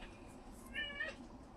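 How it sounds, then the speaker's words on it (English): A domestic cat gives a single short meow, fairly faint and slightly distant, over a quiet indoor background. "You may hear my cat or the next door dog"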